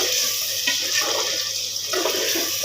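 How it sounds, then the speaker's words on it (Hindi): About half a cup of water is poured into a pan of kofta curry gravy, making a steady, continuous splashing pour that lasts throughout. "अब इसमें मैं तकरीबन आधा कप पानी ऐड कर दूँगी ताकि ये ग्रेवी अच्छी"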